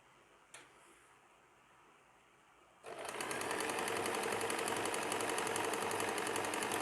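Sewing machine stitching the crotch seam of night pajamas: after a quiet lead-in with a single click, the motor starts and runs steadily with a fast, even ticking whir, close and continuous to the end.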